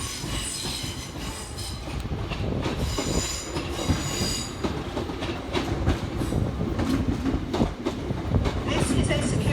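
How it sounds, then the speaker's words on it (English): Northern class 323 electric train pulls in to terminate at Crewe station, loud and close, with rumbling wheels, clicking rail joints and squealing flanges, while an announcement voice speaks over the platform. "Arriving to terminate with a northern service off of Manchester Piccadilly is 323"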